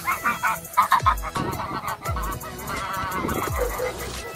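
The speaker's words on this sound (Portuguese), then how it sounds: "Olha os filhotinhos de ganso, olha que bonitinho." Young goslings honk repeatedly on a small farm while corn is handed out, their calls mixed into a busy, noisy farmyard with some rumbling thumps underneath.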